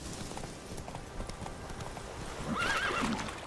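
Horse hooves clip-clop at a steady trot in The Witcher 3, close and clear, with a short whinny rising near the end over soft outdoor ambience.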